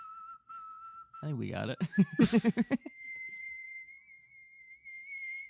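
A man whistles a steady held tone, breaks off as people talk and laugh over it, then resumes a long sustained whistled note alone, fairly close.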